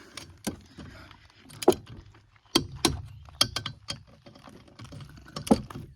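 A wrench tightens the front wheel nuts of a Renault 11 in a cross pattern during a brake job, giving a series of sharp metallic ratcheting clicks and clanks in irregular bursts, close and fairly loud with no talk.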